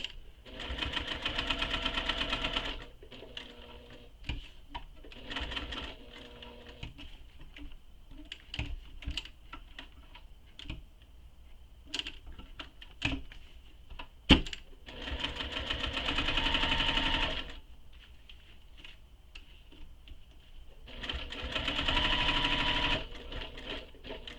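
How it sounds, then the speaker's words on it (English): A sewing machine top stitches a tote bag in several bursts of steady, rapid needle chatter, with quieter gaps of handling and fabric clicks between runs. "You've just top stitched up to where the top stitch line is."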